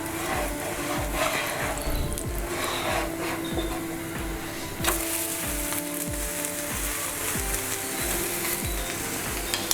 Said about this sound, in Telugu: ఇప్పుడు మనం హై ఫ్లేమ్లో పెట్టుకుని పెసరట్టుని మనం తిరగేసుకుందాం.